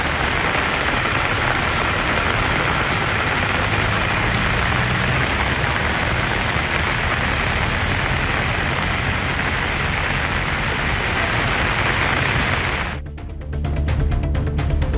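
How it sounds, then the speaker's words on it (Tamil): Heavy rain pours down in Hosur, Krishnagiri district, as a dense, steady hiss that fills the scene for most of the stretch, then gives way to scattered drips and clicks near the end. "கிருஷ்ணகிரி மாவட்டம் ஹோசூர் மற்றும் சுற்றுவட்டாரத்தில் இடி மின்னலுடன் கனமழை பெய்தது"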